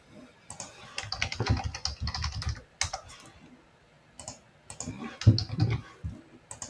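Rapid typing on a computer keyboard, a dense, steady patter of close, crisp key clicks with brief pauses, heard alone with no voice.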